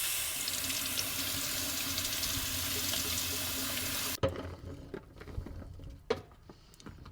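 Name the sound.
tap water running while washing blueberries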